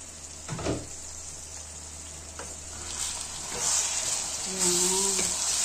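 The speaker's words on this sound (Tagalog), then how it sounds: "So lulutuin mo na yung kamatis." Tomatoes frying in a covered pan give a steady soft sizzle close by, with a few clinks and a brief burst of bubbling near the end.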